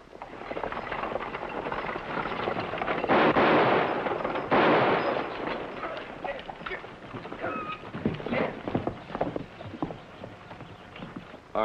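Horses' hooves clip-clopping as a radio drama effect in a western, loud galloping passages that fade back to lighter trotting, with brief bangs.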